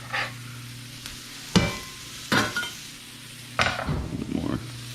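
Garlic sizzling and being stirred in a pan with sautéed onions and other vegetables for ratatouille, brief bursts of frying and scraping over a low steady hiss, with a few utensil clinks.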